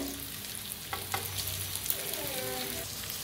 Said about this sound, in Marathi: आता जो मसाला उरला होता का नाही ते बी भाजून घेऊया.